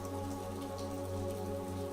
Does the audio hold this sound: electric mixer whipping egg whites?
no